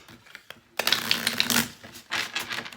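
A deck of tarot cards is riffled and shuffled up close: a few soft taps, then a burst of rapid fluttering card flicks, a brief pause and a second flurry, with no voices.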